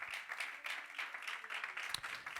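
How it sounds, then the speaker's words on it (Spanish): A church congregation claps hands together in praise, a dense, steady patter of many palms that carries on evenly for a couple of seconds with no voices over it. "Dale palmas al Señor."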